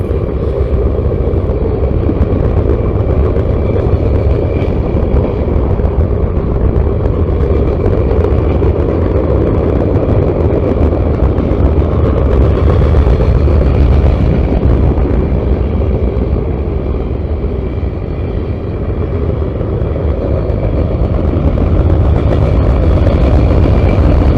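Freight train of empty coal cars rolling steadily past, a loud continuous rumble and rattle that holds level throughout with no pauses.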